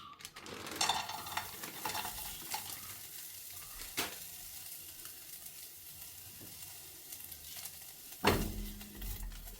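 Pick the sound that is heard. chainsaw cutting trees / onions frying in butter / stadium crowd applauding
onions frying in butter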